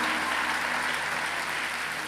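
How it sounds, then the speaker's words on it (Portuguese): A church conference congregation claps together, a full, dense wash of applause that stays loud and even for about two seconds without speech. "Aplauda o Senhor."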